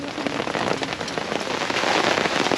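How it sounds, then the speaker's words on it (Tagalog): Heavy rain falling steadily at a campsite near Metro Manila, a dense close patter of drops on surfaces that stays loud and continuous with no talk. "hindi kami pinagbigyan ng ulan na makapagligpit ng maayos dahil nga tuloy-tuloy siya"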